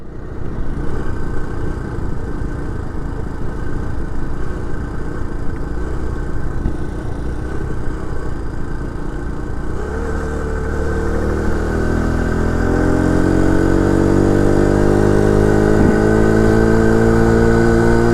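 A 49cc four-stroke motorized bicycle engine drones steadily while being ridden, a loud continuous hum with wind noise whose pitch climbs as the bike speeds up partway through.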